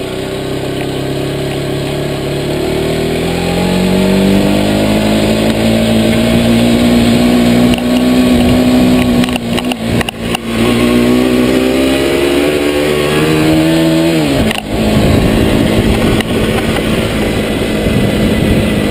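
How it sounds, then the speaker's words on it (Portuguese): A motorcycle engine runs steadily close by, its pitch climbing and dipping as it accelerates and shifts gears, with a few brief bumps and rattles. "Vamos passar de moto."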